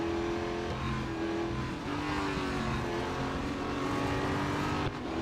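Racing engine from the Real Racing 3 game holding a loud, continuous whine with slight pitch swings as the car accelerates and shifts, with a faint hint of tire noise and no talk.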